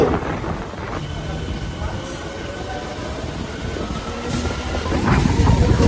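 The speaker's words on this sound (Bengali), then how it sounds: "দেখছি তারকেশ্বর দিক থেকে একটা ট্রেন যাচ্ছে শেওড়াফুলির দিকে" A low, continuous rumble of a train rolling past on the Tarakeswar–Seoraphuli line, steady and fairly loud throughout, swelling slightly toward the end.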